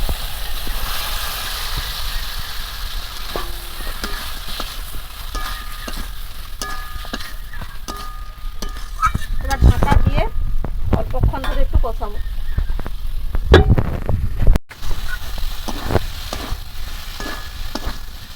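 Fried chicken liver and potatoes tipped into a spiced masala in hot oil, sizzling steadily throughout, with a busy burst of scraping and stirring clatter midway, close and fairly loud.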